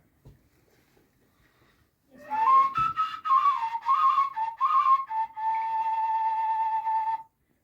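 A small whistle carved from a broken-off piece of viburnum wood, played by a Hutsul musician in Verkhovyna, sounds bright warbling tones that end on a steady held note, close and loud with no talk.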